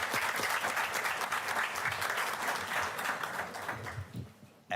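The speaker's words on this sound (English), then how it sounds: "Let's give them all a big round of applause." A room at a board meeting breaks into a burst of clapping from a modest crowd, sustained and fairly even for several seconds before thinning out and fading toward the end.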